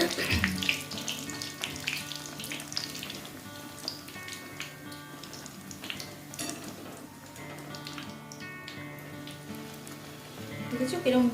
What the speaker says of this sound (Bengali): এবার এটা আমি তেলে ছেড়ে দেব।